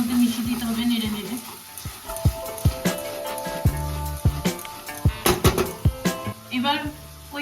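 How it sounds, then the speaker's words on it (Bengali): A metal spatula stirs and scrapes a paste through hot oil in a pan for a restaurant-style paneer curry, giving a series of irregular clinks and scrapes over a soft sizzle, with a voice talking in between. "এবার খুন্তির সাহায্যে পেস্টটাকে খুব ভালো করে তেলের মধ্যে মিশিয়ে দিতে হবে, নেড়ে নেড়ে।"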